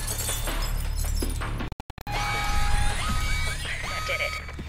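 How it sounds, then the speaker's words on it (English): Glass shattering in the video game Alpha Protocol, a loud crash with breaking and tinkling debris amid ongoing game ambience and tones. "But you might be able to find a way to break the glass"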